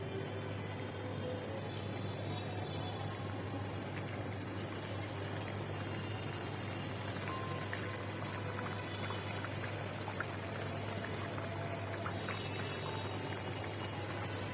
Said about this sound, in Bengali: সব কটা পিঠা ভেজে নিব।